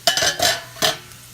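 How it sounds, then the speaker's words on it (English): A lid lifted off a cooking pot of goulash on the stove, with a few quick metallic clanks and scrapes close by, followed by a softer clink and quiet kitchen hiss. "let's take the top off of this really quick"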